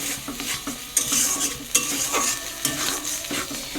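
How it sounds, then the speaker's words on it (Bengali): Spinach paste with turmeric frying in a pan, sizzling steadily while a utensil stirs and scrapes through it in repeated strokes, close and clear with no talking. "তো দিয়ে এটা ভালো করে ভাজা করে নেবো, একদম শুকিয়ে যাবে।"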